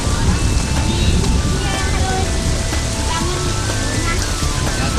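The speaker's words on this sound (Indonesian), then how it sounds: "Ibu Aminah, kondisi hujan seperti ini di kampung Panggeleseran bagaimana?" Heavy rain pours steadily in the Panggeleseran village, a dense, loud wash of drops that runs without a break, with wind buffeting the microphone.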